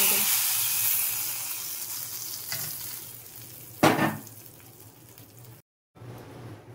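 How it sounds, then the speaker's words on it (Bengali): Whole garam masala spices sizzle and crackle in hot oil as a tempering for Rajasthani dal baati churma, a steady close frying hiss that fades gradually, with a sharp burst partway through and a brief cut to silence near the end. "লাস্টে এই গরম মশলাটা এর মধ্যে ফোড়ন দিয়ে দিলাম।"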